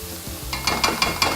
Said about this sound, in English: You can start frying them off here.